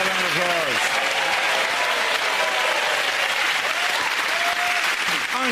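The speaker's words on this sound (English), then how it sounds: "Give them all a round of applause." Studio audience applause from a comedy panel show, steady dense clapping filling the room from start to finish with faint voices mixed in.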